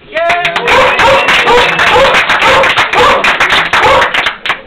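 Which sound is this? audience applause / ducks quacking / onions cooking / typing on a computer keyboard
audience applause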